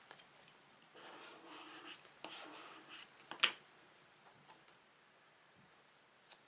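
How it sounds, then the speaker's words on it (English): A craft knife trims overhanging paper edges on a coaster holder with quiet scraping and slicing strokes, plus a few faint ticks and one sharper snick partway through, close and soft with no talking. "my hobby blade or my craft knife to trim away any overhanging edges"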